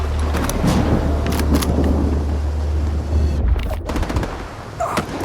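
Rapid gunfire from a weapon in the video game Stalker 2, loud bursts of sharp shots in quick succession over a low engine-like rumble, with a brief gap and a few more shots at the end.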